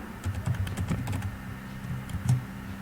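Close, quick typing on a computer keyboard while entering an Excel formula, with a short run of light clustered keystrokes heard alone.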